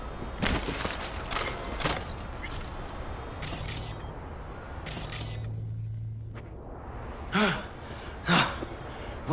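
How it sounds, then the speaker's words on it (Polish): A character in Cyberpunk 2077 pants and gasps for breath after rushing indoors. The breaths come as several sharp, breathy bursts with pauses between them, close and fairly loud, over a low game hum. "Muszę złapać oddech."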